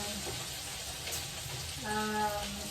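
Sotanghon noodles with vegetables, chicken and broccoli frying in a pan give a steady close sizzle, with a faint voice and a brief tonal clatter partway through.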